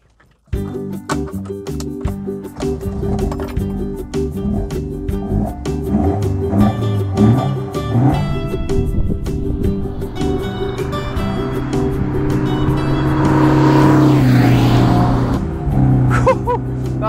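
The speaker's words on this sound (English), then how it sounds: "This is my 1972 Alfa Giulia Super, and it's the most fun car I've ever driven." A 1972 Alfa Romeo Giulia Super 1.3 engine starts with a sharp catch, then settles into a loud, close, lumpy idle before revving up into a rising, raspy roar that holds toward the end.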